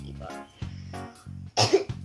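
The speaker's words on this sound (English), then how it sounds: "I have a cough." A child's pretend cough, loud and near, a few harsh bursts with a longer throaty one near the end, within a doctor-set play game.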